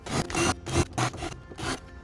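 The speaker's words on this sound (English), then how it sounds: "Kind of wiggle your bit back and forth." An eighth-inch drill bit is worked back and forth through a piece of wood to cut out material for a birdhouse, giving repeated rough rasping scrapes in bursts, close up and with no talking.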